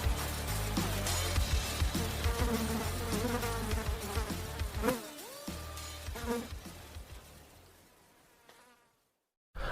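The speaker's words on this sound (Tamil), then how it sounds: "தேனீக்களுக்குள் சலசலப்பு ஏற்பட்டு என்ற சத்தத்துடன் கருஞ்சிவப்பு தேனீக்கள் கூட்டமாக சியோன் அமர்ந்திருக்கும் பெரிய பறவையை நோக்கி" A dense, droning buzz of a bee swarm, loud and steady, layered with swooping tonal effects, cutting to silence near the end.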